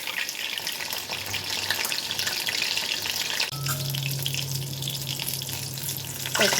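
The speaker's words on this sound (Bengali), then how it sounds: "লাল লাল করে ফ্রাই করে নেব।" Chicken wontons deep frying in hot oil give off a steady, dense hiss that holds for several seconds, with a low hum underneath and no voices.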